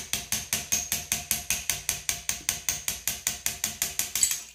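A hammer taps a punch made from 50 BMG brass to drive out trigger parts, about twenty evenly spaced metallic strikes in a quick steady rhythm, close and clear.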